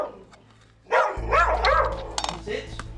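A 15-year-old dog indoors gives a few rough barks and yips at close range, mixed with people talking over the noise.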